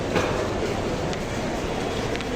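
Sealdah railway station in Kolkata at night carries a constant broad rumble and hiss of trains and busy platform noise, fairly loud and unbroken.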